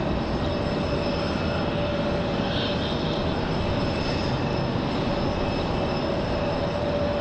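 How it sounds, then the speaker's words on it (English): An American Airlines Boeing 737-800 departs Raleigh-Durham International bound for Los Angeles, producing a constant, dense jet roar with a faint thin whine riding on top, unbroken by voices. "that one's American Airlines 2654 off to Los Angeles. 737-800."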